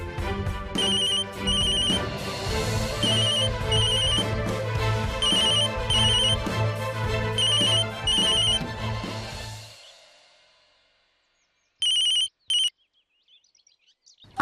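A phone ringtone plays, repeating electronic ring bursts over a melodic tone that stop abruptly, followed by silence and a short second ring pattern.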